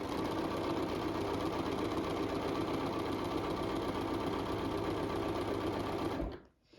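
A domestic sewing machine stitches quilt fabric with a steady, loud, continuous mechanical whir and needle chatter that runs unbroken for about six seconds, then stops abruptly.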